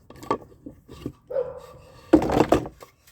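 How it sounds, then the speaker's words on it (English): A dog barks in short sharp bursts at a woodworking shop where a jewelry box is being made, several barks with a whine between them, fairly close and loud. "What's that dog barking at?"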